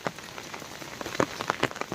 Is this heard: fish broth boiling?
no